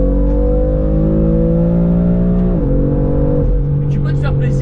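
A BMW M4 engine with an aftermarket exhaust line revs loud and close, its droning pitch climbing steadily before dropping sharply and settling into a lower steady hum.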